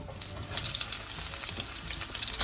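Cumin seeds and onions frying in oil for Punjabi dum aloo, a steady broadband sizzle with soft crackles and a few clinks, close and continuous with no talk.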